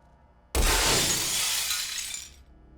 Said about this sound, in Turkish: Kapının camı çok güzel kırıldı.